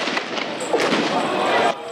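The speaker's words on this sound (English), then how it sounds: "tear gas and gunshots rent the air" Several sharp gunshot cracks ring out during a tense street protest standoff with tear gas, over loud crowd noise and voices.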